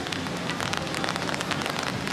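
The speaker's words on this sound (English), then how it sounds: "So this is kind of a cool shot in the rain." Steady rain falls outdoors at Disney's Animal Kingdom on a blustery day, a dense hiss of drops pattering on surfaces close by, continuous and even throughout with no voices.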